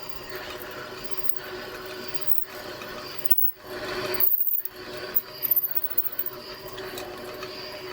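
Metal machining on a lathe while drilling a Kawasaki GT550 gear stick part: steady mechanical whirring and grinding with a short quiet gap, then louder ratcheting bursts near the end, with no voices.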